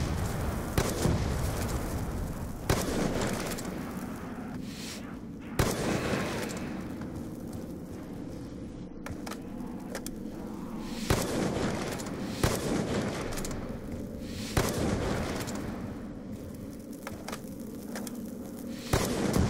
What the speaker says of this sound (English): this is the pack-a-punch gun right here, and it's pretty powerful